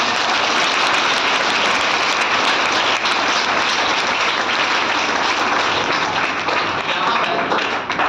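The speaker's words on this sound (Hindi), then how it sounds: "उनके लिए जोरदार तालियों से स्वागत करते हैं" Loud, dense applause from an audience welcoming parents and guardians at a school gathering, sustained and steady throughout without a break.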